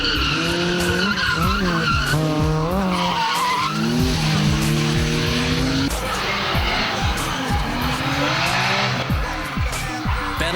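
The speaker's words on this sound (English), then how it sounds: "I just enjoyed skidding my car, giving it shit." Nissan Silvia drift cars battle on a track, tires squealing and skidding continuously while engines rise and fall in pitch, loud and close with overlapping screeches.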